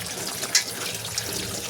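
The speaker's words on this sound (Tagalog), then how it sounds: "hugasan na po natin itong pechay" Running tap water splashes steadily as pechay is washed under the faucet, a close, continuous gushing with a couple of brief splashes and no talking.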